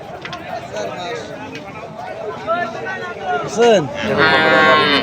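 Small and medium cattle and calves moo at Hazratpur livestock market. A loud, drawn-out moo rises over constant crowd chatter and market bustle, and a second lowing call follows near the end.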